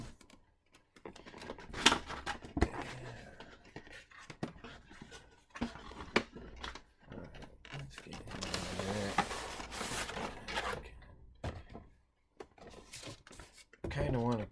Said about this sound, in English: So I've got my little box cutter here. Cut this tape on the top.